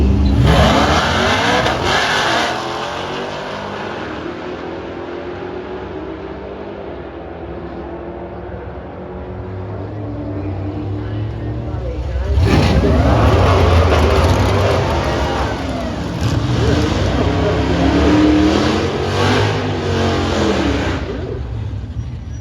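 Muscle cars, among them a Dodge Hellcat, launching and racing down a drag strip, loud engines revving and accelerating in long rising sweeps, fading with distance, then a second louder roaring pass.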